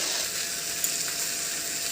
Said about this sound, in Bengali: এবার নুন হলুদ দিয়ে ভালো করে কষিয়ে নিই